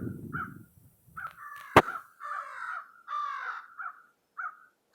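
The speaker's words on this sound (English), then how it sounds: "Sound of the crows." Crows caw from a few spots on a windy day in Kentville, a string of scattered harsh calls at moderate distance, with a gust of wind at the start and a sharp click partway through.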